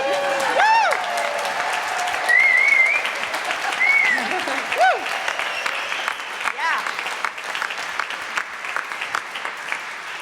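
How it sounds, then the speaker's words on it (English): An audience at a live album release concert applauds warmly, with whoops and sung-out cheers rising above the steady clapping before it gradually thins and tapers. "Applause"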